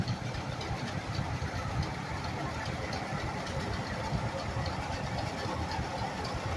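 A 1949 Oliver Model 77 tractor, 37 horsepower, idles at an antique tractor show in West Branch, Michigan, a steady mid-low engine chug running throughout with a voice over it.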